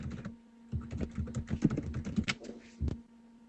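Quick, irregular clicks from a computer keyboard being typed on, heard close and fairly quiet over a faint steady hum.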